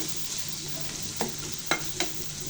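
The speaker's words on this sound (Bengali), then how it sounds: "কাঁচা মশলাটা ভালো করে ভেজে নিব।" Raw spice paste sizzles steadily in a pan for a pangas fish bhuna, with three sharp spatula scrapes and clinks cutting through the frying hiss near the end.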